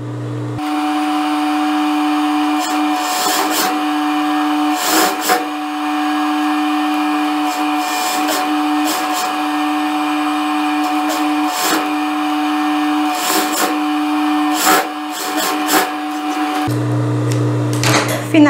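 A sewing machine stitches a seam on a blouse's lining, its motor whirring in a steady, close, loud hum for about sixteen seconds with faint clicks, starting and stopping abruptly, and no voices.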